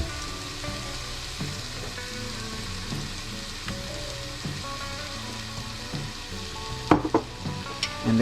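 Noodles tossed with soy sauce in a hot pan sizzle steadily, with scraping stirs and a few louder clatters of the utensil toward the end.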